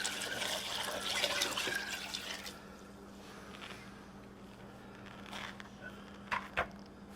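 Water pours into a chicken brine, a soft, faint splashing and trickling that is strongest at first, then tapers into quieter dribbles and a few small clinks.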